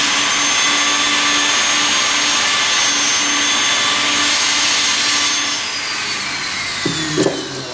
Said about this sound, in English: I'm going to go in now with my brush, my bristle brush.